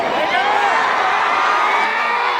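A large crowd at a stage event cheers and shouts loudly and continuously, a dense roar of whoops and yells from many voices.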